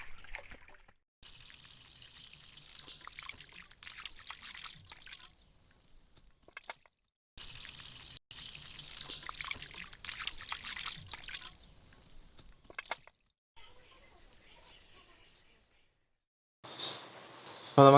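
Water splashing and trickling while chicken is prepared in a home kitchen for alfaham, coming in several separate bursts of pouring and dribbling with gaps of quiet between them.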